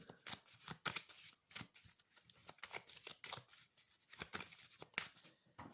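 Tarot cards shuffled by hand for a weekend reading: a rapid, close run of crisp riffling bursts and soft slaps, repeating irregularly throughout without any talk.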